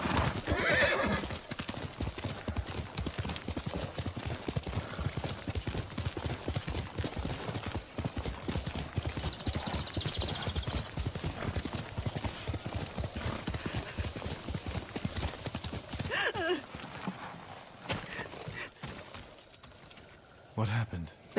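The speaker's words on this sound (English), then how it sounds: "Horse!" A horse gallops steadily in the video game Ghost of Tsushima, with rapid, continuous hoofbeats and a couple of neighs, then slows near the end as the pounding fades and stops.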